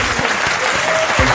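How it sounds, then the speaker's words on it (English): Applause from a studio audience fills the stretch steadily at close range, a dense continuous wash of clapping with faint voices mixed underneath. "Everyone, please give me another round of applause for Zenia and Kimmy."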